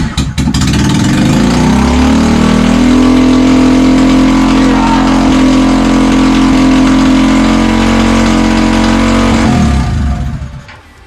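Engine on a home-built motorised drift trike fires up and runs for about ten seconds, a loud, close, steady mid-pitched drone that holds even before dying away at the end.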